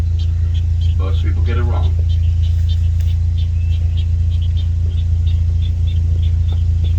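A loud, steady engine rumble runs throughout, with someone speaking briefly over the drone.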